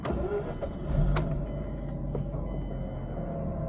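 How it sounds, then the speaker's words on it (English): A 2007 Mazda RX-8 rotary engine cranks and catches, settling into a steady, throaty idle with a low rumble throughout. "throw the key in, throw it up, clutch in, and start her up"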